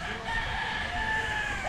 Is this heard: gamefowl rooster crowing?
yes